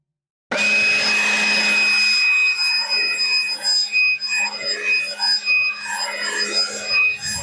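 Leaf blower clearing an edged lawn and sidewalk, starting abruptly and then running as a steady loud whoosh with a high whine, its airflow fluctuating as it sweeps.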